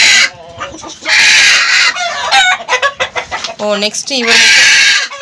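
A Kairali hen on a rooftop clucks and squawks loudly up close in bursts of sharp calls and cackles, with someone speaking briefly between them.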